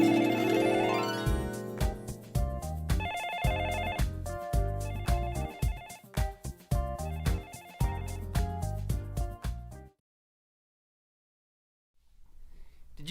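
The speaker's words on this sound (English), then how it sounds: "the hotline ringtone is so damn hot" A hotline telephone ringtone plays a bright, melodic pattern of repeating electronic tones in bursts, then cuts off abruptly into silence, with a faint low sound near the end.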